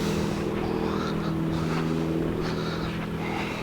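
Steady low engine drone of a boat motor running close by as the boat is reversed in to be landed, in Australia near Talbingo, with wind noise over the microphone throughout.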